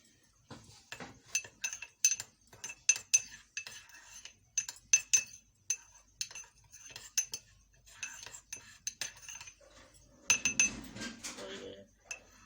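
A spoon clinks and scrapes against a bowl while salt and ground chili are mixed together. The taps come close and irregular, in quick bursts, fairly quiet, and there is no talk.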